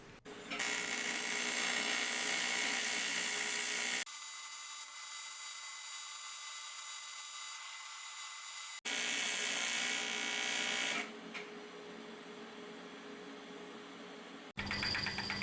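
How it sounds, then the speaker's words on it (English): Power drill boring a hole through aluminium sheet for a 19mm spigot on a turbocharged 4WD Austin Mini radiator, a loud sustained whine with the drill stopping and restarting in a few bursts. "now a hole is being drilled to accept the new 19mm spigot"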